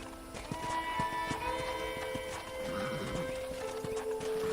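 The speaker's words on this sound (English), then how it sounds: "I picked out a fine horse for you." Horse hooves clip-clop steadily in Red Dead Redemption on a ranch, with a faint whinny, under a continuous musical and ambient game bed with no voices.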